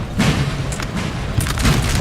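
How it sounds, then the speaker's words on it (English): Booming artillery fire on a Napoleon Total War battlefield in a 4v4 battle of France against Russia, Austria, England and Prussia. Low, rumbling blasts roll over continuous battle noise, with sharper cracks layered in. "The artillery is going to fire."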